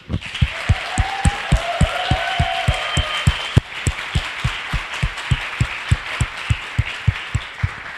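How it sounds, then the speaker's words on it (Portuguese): An audience at the Python Nordeste 2019 tech conference claps for the organizers. Rhythmic, evenly spaced unison claps ring out close and steady, with a little crowd noise early on. "Então eu queria pedir uma salva de palmas para a galera da organização."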